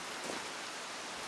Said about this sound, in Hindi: बारिश बहुत ही खूबसूरत हो रही है,